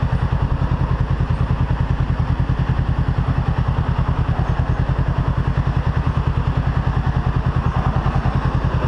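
A Honda CBR500R motorcycle on a ride produces a loud, steady engine drone with an even, rapid pulsing rhythm throughout, up close and without talking.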